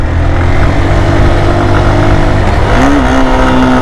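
Motorcycle engine pulling hard uphill on a steep mountain road toward Keokradong, a continuous loud drone with a rising pitch near the end as the bike shifts into second gear.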